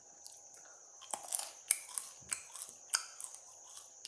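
Close, crisp chewing and smacking while someone eats beef jerky: a run of irregular crunchy clicks and wet snaps heard alone, fairly faint.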